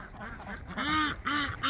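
Several ducks quack in short repeated calls as a dog scatters the flock, close and fairly loud, with overlapping nasal honks in an uneven rhythm.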